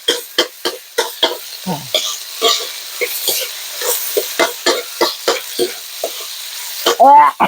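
Pork stir-fried with holy basil in a hot pan, loud close sizzling with rhythmic scraping strokes of a spatula repeating about twice a second, ending in a burst of heavier clatter.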